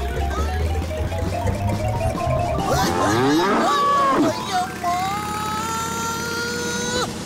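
Yamraj's buffalo in a Motu Patlu cartoon lets out loud, drawn-out bellowing moos with bending pitch over a busy cartoon soundtrack, close and dominant.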